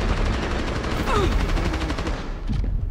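Gunfire in the mobile video game Rainbow Six Mobile, dense rapid shots forming a continuous loud burst of automatic fire across the whole stretch, heard close with no talk over it.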